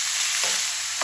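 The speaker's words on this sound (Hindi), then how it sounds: "इसको 2-3 मिनट आपने फ्राई करना है कि इसका कलर चेंज हो जाए" Chicken mince frying and being stirred in a pan, a steady broadband sizzle with a couple of brief scraping stirs, close and moderately loud, no voices.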